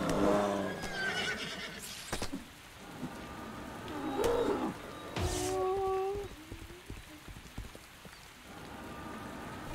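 A horse whinnies in a video game, a clear tonal neigh standing out midway above steady rain-like patter and scattered thumps, moderately loud and fairly close.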